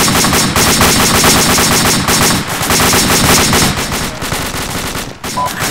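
Heavy gunfire in Arma 2, a loud, sustained burst of rapid automatic fire with overlapping shots rattling almost continuously from near range.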